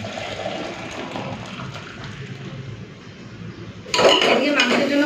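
Cooked sour dal poured from a pot, with metal pot and utensil clinks over a low background. A louder, brighter burst of pouring and scraping comes near the end.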